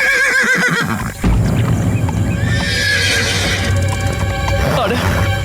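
A horse whinnies loudly with a wavering call, then hooves clip-clop steadily nearby under a busy outdoor scene with a second neigh near the end.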